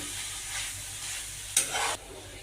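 Chicken pakora filling with salt and fried spices sautéing in a pan, a continuous close sizzle with one brief louder scrape of stirring near the end.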